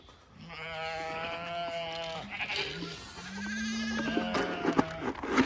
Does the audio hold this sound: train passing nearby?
no